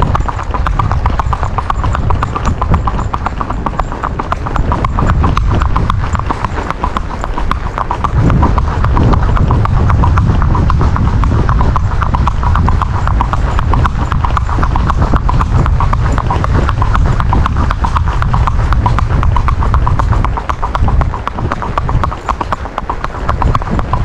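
A mare's hooves clip-clop in a steady, continuous rhythm while she is worked calmly during horse training, the footfalls loud and close throughout with no talk.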